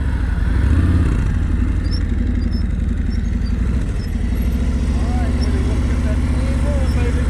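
A motorcycle putters at low speed through tight practice maneuvers in a slow-speed riding skills session, its steady low engine rumble and clatter running continuously and fairly close, with faint chirps above.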